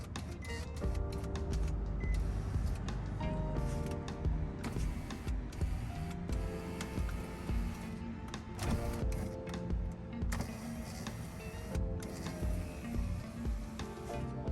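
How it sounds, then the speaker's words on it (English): Power window glass in an Infiniti G37 sedan front door runs up and down, a continuous close mechanical whir and rattle with small ticking clicks that lasts throughout, with no talk. "Let's test the window and make sure it slides up and down smoothly."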